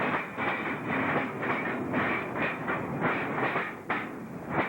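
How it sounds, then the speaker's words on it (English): Ontario Northland northbound train 213, led by engine 1734, rolls through snowy Porquis, Ontario in winter, its wheels giving a steady, rhythmic clickety-clack with a broad rumble and hiss, fairly close and without talk. "we once again see northbound train number 213 with engine 1734, this time at Porquis"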